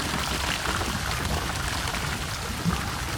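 Water rushes at an old watermill while rain falls, forming a steady dense hiss that stays even throughout with no voices.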